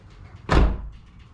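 The door of an S95 New Edge Ford Mustang fitted with Noico sound deadener closes with a single solid, deep thud, short and close, over a low background hum.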